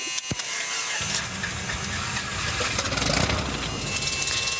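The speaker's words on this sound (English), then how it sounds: "Let's go ahead and start the engine." A couple of sharp clicks, then a small airplane's engine catches and roars into a loud, steady rumble that fills everything, with a brief surge partway through.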